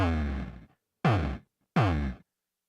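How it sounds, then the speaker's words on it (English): Three short looped vocal bursts, heavily processed with a gritty distortion effect, each cut off sharply and separated by silence, sounding like breathy, rasping sighs. "I took an effect called a vocal distortion,"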